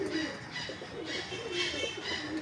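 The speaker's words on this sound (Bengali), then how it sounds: "এতদিন কবুতর আলাদা ছিল, এখন দেওয়ার সাথে সাথে কবুতর আবার জোড়া নিয়ে নিতেছে" Mosaldom Archangel pigeons, a newly paired couple, coo nearby in soft repeated throaty phrases that rise and fall over a light background hiss.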